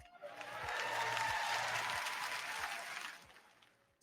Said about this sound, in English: why there was a big applause from that